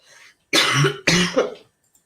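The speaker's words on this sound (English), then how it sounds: "have a cough, but it's because of a cold." Two sharp, close coughs from a person with a cold, in quick succession, the second slightly rougher and trailing off, with no talking.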